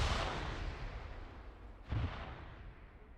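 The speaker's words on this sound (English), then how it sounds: "Finn just threw a grenade on Pixie" A grenade blast in the military shooter Arma 3 booms out as a dull, rumbling roar, with a second heavy burst landing partway through before slowly fading.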